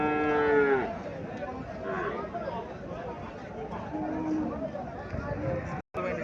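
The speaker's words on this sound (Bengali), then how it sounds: "এখানে একটা গাভি দেখা যাচ্ছে" Haryana dairy cow at a livestock market lowing in a long, drawn moo at the start, with shorter calls later amid the chatter and talk of people nearby.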